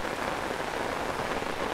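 Steady rain falls on a homestead during flooding on a mild, warm day, a dense even hiss of drops hitting surfaces, constant and fairly soft with no voices.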